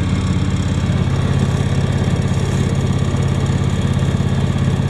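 A John Deere X728 4x4 lawn tractor engine runs nearby at a steady idle, a loud, even low throb with a fast pulsing beat and mechanical vibration, continuous and heard without talk.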